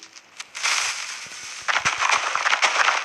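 Video game explosions blow up farm fields in a dense burst of crackling blasts, loud and close, starting after a brief quiet moment and continuing as overlapping pops and booms.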